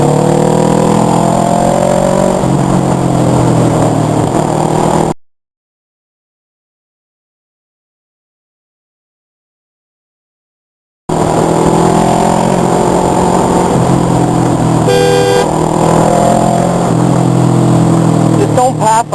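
An FD6 car and a Honda CBR 600 motorcycle pass on a road, engines revving loudly and up close, with a gap of silence partway through and the engine noise returning afterward.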